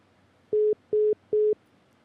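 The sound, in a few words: telephone busy signal after call dropped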